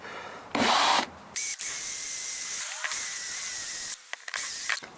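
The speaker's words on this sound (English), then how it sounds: "these aren't really the proper drill bits for doing this, but it's the only one I've got" A power drill bores a 25mm hole with an improvised bit near an immersion heater: short bursts of whining, grinding drilling separated by pauses, loud and close, with the motor pitch shifting as it starts and stops.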